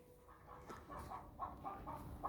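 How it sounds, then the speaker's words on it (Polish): Chickens cluck in a hen house, a series of short throaty clucks repeating irregularly over a low background hum, moderately close but quiet. "Kurnik. I słychać jak gdaczą."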